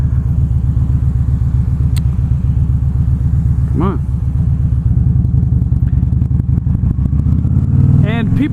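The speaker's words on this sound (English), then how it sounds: "Is that a motorcycle? Yeah, it is" A motorcycle engine gives a loud, steady, rumbling drone throughout, and a voice speaks briefly over it.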